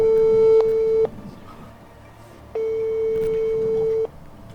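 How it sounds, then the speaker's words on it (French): A mobile phone rings with two long, loud electronic tones about a second and a half each, separated by a short pause, sounding close against quiet background noise. "Pas mon téléphone, il sonne."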